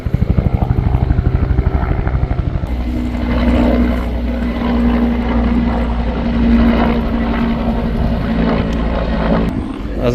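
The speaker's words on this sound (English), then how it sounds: "It looks just like a police helicopter." A police helicopter's rotor thumps loudly close overhead above a forest trail, then settles into a steady droning roar that stays strong throughout.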